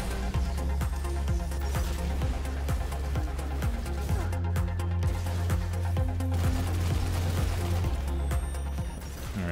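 Heavy weapon fire in Destiny 2 on PC: rapid repeated shots with deep thumping low booms and metallic crackle, loud and continuous, with no talking.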